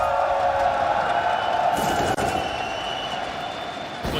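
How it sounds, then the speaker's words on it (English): Brazilian fans in a crowd at the PGL Major esports arena in Antwerp keep up a dense, steady roar of cheering and applause, loud and continuous throughout, with one brief dip midway before the crowd noise resumes. "Awesome to see the Brazilian fans still in the crowd."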